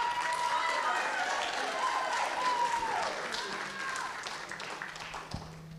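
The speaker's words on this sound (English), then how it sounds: "Another round of applause for all the performers." Audience applause and cheering at the close of a high school talent show, a broad, dense crowd sound that stays fairly loud and steady, then slowly thins and fades toward the end, with some voices mixed in.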